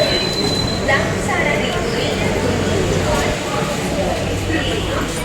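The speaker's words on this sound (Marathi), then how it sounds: "ही आपली मेट्रो ओपन होईल आता अँड आपण बसूया." A metro train rumbles loudly at a station, its wheels squealing and a bright tone sounding, with a continuous heavy mechanical roar throughout; voices are present beneath it.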